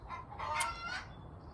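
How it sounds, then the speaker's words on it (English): Backyard chickens in Portland, Oregon making a few faint, distant clucks and squawks over quiet outdoor background noise, with no one talking. "My chickens say good morning as well as they're all laying eggs."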